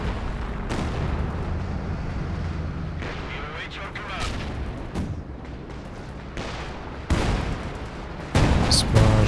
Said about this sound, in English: Here comes the Katyusha though.